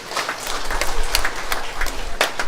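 A church congregation claps together in steady, dense applause that fills the room at moderate loudness and continues without a break.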